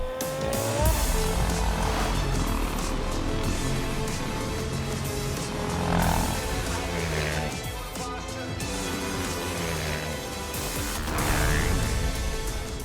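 Racing motorcycles come over turn 4 and onto the main straight, their engines roaring and rising in pitch as they pass close by in waves, loud and without speech.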